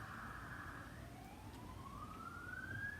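A distant emergency vehicle siren wails, its pitch sweeping slowly upward over a steady low rumble of background noise, heard from afar through an open door.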